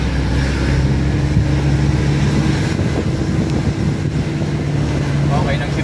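An engine revs hard at full throttle, a loud continuous roar with heavy wind buffeting, its pitch easing slightly midway as it shifts gear.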